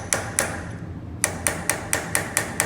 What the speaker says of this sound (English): So take a little hammer.